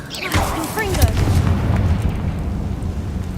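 The Confringo blasting curse in Hogwarts Legacy fires as a near, loud explosive boom, followed by a sustained rumbling roar, with a voice speaking over the blast.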